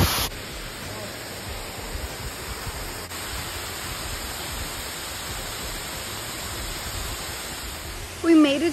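A large waterfall at Ng Tung Chai roars as a constant, loud broadband rush of falling water, steady throughout, with a brief voice near the end.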